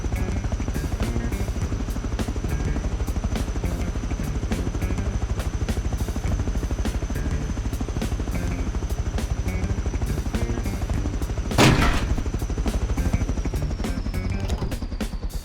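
An attack helicopter in the video game Rust thumps steadily with rapid rotor chopping and a high whine, loud and constant, with a sharp burst near the end like a rocket launch, no talking.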